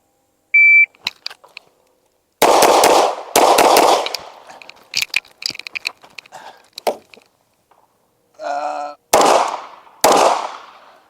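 Gunshots at a shooting range: a shot timer beep, then several loud, sharp, close reports spaced out with clatter between them and a second beep near the end, with no talk.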